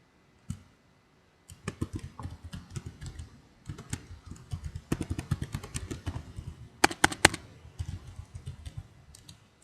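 Fingers typing on a computer keyboard, a steady patter of quiet close clicks after one early tap, running on in uneven bursts with a few louder keystrokes near the end.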